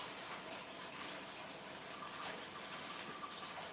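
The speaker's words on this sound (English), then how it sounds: "Let me rinse this kale out real quick." Water from a kitchen tap runs steadily over a handful of kale, a faint, even rush with no breaks.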